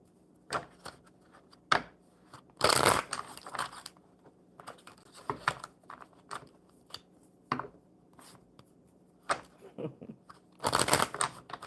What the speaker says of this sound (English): One more good shuffle for Raymond.